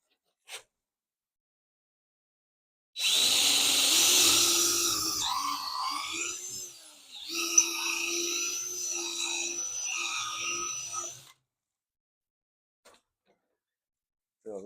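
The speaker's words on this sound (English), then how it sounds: "Go ahead and drill that out." A power drill boring holes through wood for a chicken coop roost, a loud sustained whir running several seconds with brief pauses, then stopping.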